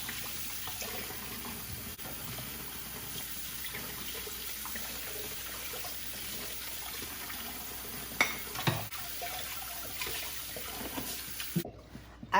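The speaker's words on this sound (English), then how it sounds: "Because the water is very hot, I let the water running." Hot water runs steadily from a kitchen tap while pork is rinsed under it for Dublin-style coddle, a continuous close hiss with a few brief clatters near the end.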